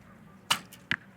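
Arrow shot at an outdoor archery team final, a sharp thwack of release followed about half a second later by a crisp impact on the target, both short and fairly close in a quiet setting.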